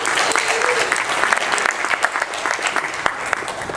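A crowd applauds after a startup pitch at a tech-week fireside chat, dense clapping with sharp individual claps standing out and a few voices mixed in.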